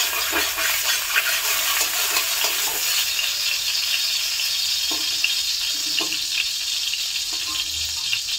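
Mustard oil heating in a pan, a constant dense sizzling hiss with faint crackles and occasional soft clinks, steady and close with no talking.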